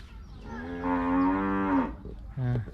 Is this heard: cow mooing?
yes